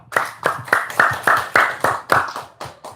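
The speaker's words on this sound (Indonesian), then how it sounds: "Tepuk tangan dulu dong." A small audience claps at a talk or seminar in Indonesia: steady, evenly spaced claps, about ten in three seconds, close and fairly loud, with no talking over them.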